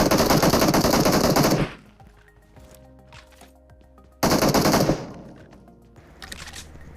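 Automatic gunfire in a shooter video game during a 2 vs 2 ranked match: two long, loud, rapid bursts of machine-gun fire separated by a quieter gap with faint background game sounds.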